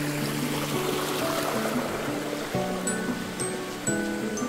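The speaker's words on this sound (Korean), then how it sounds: "아, 저 위에 폭포가 있습니다." Ssanggok waterfall pours into a pool below, a continuous rushing wash of water heard steadily at a moderate distance, with faint tonal chirps and clicks scattered over it.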